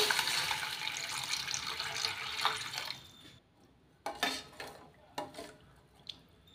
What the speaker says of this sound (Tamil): இப்போ இதில் ஒரு டம்ளர் தண்ணி ஆட் பண்ணிக்கோங்க.